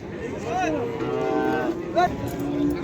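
A young bull at a livestock market lows twice, a drawn-out moo near the start and a shorter one about two seconds in, close and fairly loud over steady market crowd murmur.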